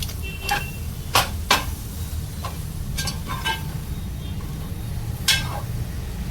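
Spicy boti (goat tripe) frying in a pan, a low steady sizzle with a few sharp clicks and stirring taps scattered over it, close and moderately quiet.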